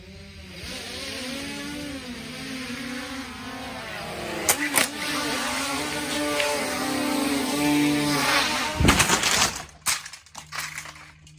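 A small drone buzzes as it lifts off and tilts forward, its whining rotors shifting in pitch before a sharp crash, clattering impacts and a sputtering stop, all loud and close.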